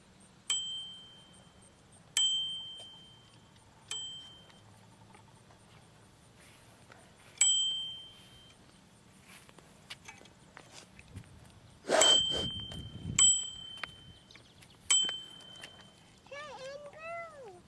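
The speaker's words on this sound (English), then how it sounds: "Do you have a bell on your bike?" A bicycle bell rings in a series of bright, sharp dings spaced a second or two apart, each ring decaying quickly, with voices talking around it and a brief loud clatter partway through.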